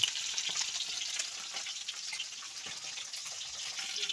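Lata fish frying in hot oil gives a steady hiss scattered with sharp little pops and crackles, close and continuous, with no one speaking.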